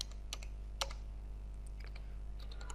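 Keystrokes on a computer keyboard while code is typed, scattered soft clicks in short bursts over a low steady hum, fairly faint and close.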